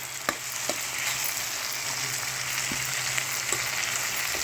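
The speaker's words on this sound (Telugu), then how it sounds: "కాలీఫ్లవర్, మన మెంతి కూర అన్నీ బాగా వేగిపోతున్నాయి." Cauliflower and fenugreek leaves fry in a pan with a steady, close sizzle, broken by a few soft clicks as the vegetables are stirred.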